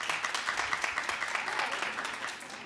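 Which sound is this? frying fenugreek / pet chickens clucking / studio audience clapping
studio audience clapping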